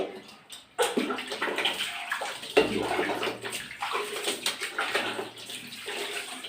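Water splashes and pours continuously as it is poured over a baby in a tub during a bath, with short pauses and bursts, close by; little else audible besides the running water.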